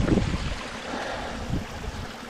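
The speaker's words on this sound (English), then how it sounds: "Nice little New England stream." Small stream flowing through New England woods near a little waterfall on Mt Monadnock, a steady broadband rush of water with a brief louder splash at the start.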